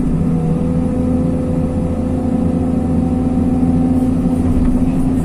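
A Hyundai R220 excavator grading dry clay runs at steady medium revs, a loud continuous diesel drone with a low hum and a faint whine, close by and unbroken.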